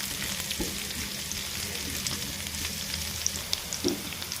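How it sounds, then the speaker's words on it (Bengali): Chopped onion, garlic and green chili frying in oil until reddish, a dense, steady close sizzle with faint crackles and a couple of light clinks near the end, no talk. "তেল দিয়ে দিয়েছি এর ভেতরে আমি পেঁয়াজ কুচি রসুন কুচি কাঁচামরিচ পরিমাণ মতো দিয়ে দিয়েছি এটাকে ভালো করে আমি লাল লাল করে ভেজে নিয়েছি"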